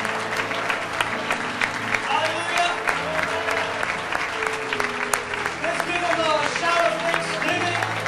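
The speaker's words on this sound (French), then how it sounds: "Donnons une acclamation au Seigneur." Church congregation applauding and cheering in praise, a sustained wash of clapping with scattered shouts under a voice speaking over it.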